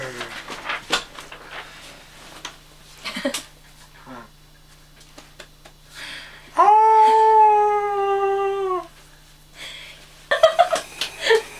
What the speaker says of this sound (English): Get your yawning over with.